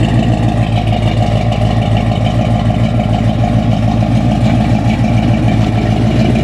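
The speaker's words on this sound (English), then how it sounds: "I just absolutely love the sound of this big block Chevy engine." A 1969 Chevelle SS with a big block Chevy engine idling, a steady, loud, low rumbling throb heard up close and alone without any voices.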